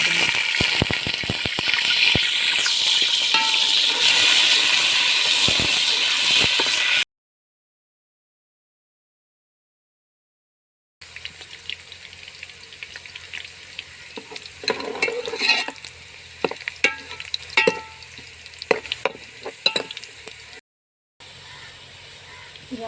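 Onions fry in mustard oil for aloo palak, a bright sizzle with scraping stirs, then a silent break, and the frying returns with irregular clatters of a spoon against the pan.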